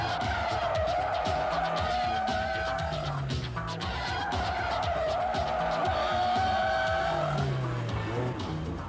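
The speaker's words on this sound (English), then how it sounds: "If you're in the mood for burning rubber on an airfield circuit, you can't beat Ford's new Sierra Cosworth." A Ford Sierra Cosworth skidding on an airfield circuit, tyres squealing in long sustained screeches over a hard-revving engine, loud and close with no break.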